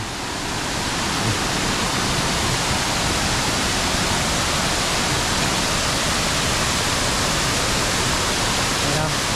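Steady broadband roar of a waterfall along a river about 116 km from Pakse toward Attapeu in Laos, loud and continuous throughout with no clear voices on top.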